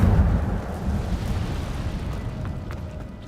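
A Hogwarts Legacy Incendio fire spell roars out as a loud, continuous whooshing blast of flame that slowly fades over a few seconds.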